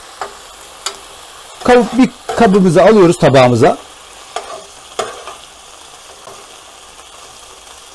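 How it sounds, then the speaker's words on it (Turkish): Chicken pieces sizzling and crackling in a pan with occasional stirring clicks, while a person talks briefly in Turkish over it in the middle. "Tavuklarımızı kavurmaya devam ediyoruz."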